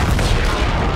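A missile launch explosion in Call of Duty Infinite Warfare, during a space battle over Venus, roars as a loud, dense, rumbling blast that fills the whole moment without pause.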